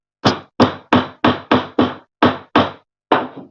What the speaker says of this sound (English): that's as far as I'm nailing